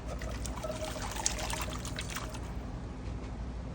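Soaked peas and their soaking water poured into a pot make a continuous close splashing pour that eases off toward the end, over a low background rumble, with no voices.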